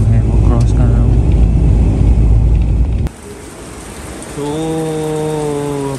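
Heavy rain pours near the Line of Control in Keran, Kashmir, as a dense, loud hiss, with a motor vehicle's engine droning underneath and someone speaking briefly.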